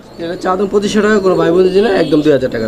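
A pigeon coos in low, rolling bursts close by, tangled with people talking over it.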